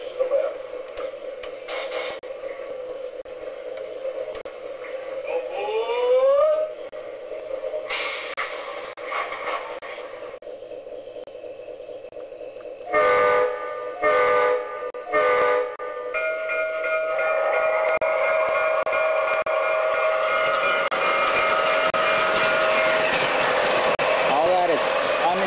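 Lionel and MTH model train set pulling away with an automatic start, whistle toots and rising motor and rail noise building toward the end, close by with some talk in the room.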